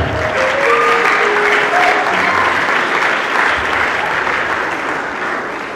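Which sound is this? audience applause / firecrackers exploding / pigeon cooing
audience applause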